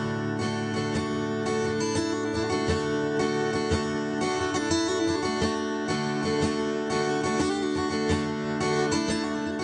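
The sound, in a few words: guitar chord hammer-on and pull-off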